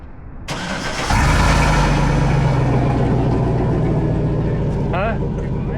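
A GMC truck fitted with Scat Pack mufflers cranks and fires up, then settles into a loud, steady deep idle. Background noise and a brief high tone can be heard near the end.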